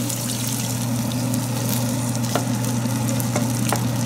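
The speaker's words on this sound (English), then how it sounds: "This is cooked, it's fragrant, so I'm going to add the coconut milk." Coconut milk thinned with a little water poured into a pan of fragrant, cooked spiced mixture for Indonesian basil-spiced eggs, giving a steady, close sizzle and bubbling with some stirring, no talking.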